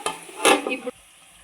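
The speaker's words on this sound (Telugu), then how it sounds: "ఆయిల్ పోసుకొని హీట్ ఎక్కిందండి. ఆనియన్స్ వేసుకొని బాగా ఫ్రై చేసుకోవాలన్నమాట" Onions frying in hot oil for a country chicken cashew curry: a brief close stir and scrape with sizzling that swells for a moment, then cuts off to near quiet.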